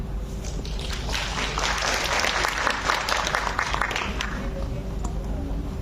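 Applause for a group in a session hall: dense, steady clapping from many hands that rises and holds for several seconds, loud and close, with no talking over it.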